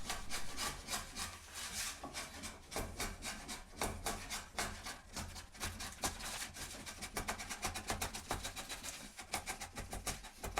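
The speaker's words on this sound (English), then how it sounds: "This just shows paring down a face with the slick." A hand-forged slick, made from an old leaf spring, shaves down a timber face in a timber-framing setting. Steady, close scraping and rasping strokes repeat in a quick rhythm, and there is no talking.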